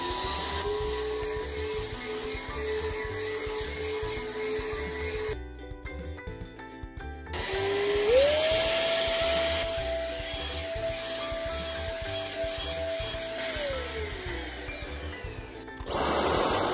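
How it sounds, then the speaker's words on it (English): An ALDI Dyson-dupe stick vacuum cleaner runs on carpet, a continuous whining motor with a steady tone that cuts out briefly, then returns and rises in pitch as it works, loud and close with no talk. "let's go vacuum the carpet."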